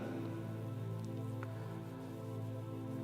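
Rain falling on a Dubai street with cars around, a faint, steady hiss over a low traffic hum, continuous and without voices.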